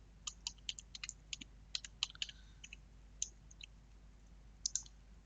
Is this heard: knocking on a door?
no